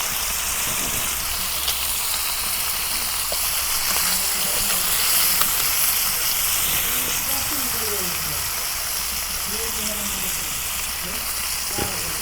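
Pangas fish pieces frying in hot oil in a pan, a steady dense sizzle and hiss running throughout, with a voice talking faintly underneath.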